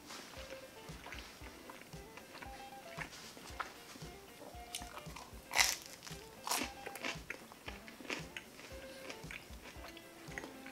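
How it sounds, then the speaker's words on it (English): Crunchy cornmeal crust of a Tony's Big Cheese pizza being bitten and chewed close up, with repeated quiet rhythmic crunches and a couple of sharper bites midway. "Nice crunch on the crust."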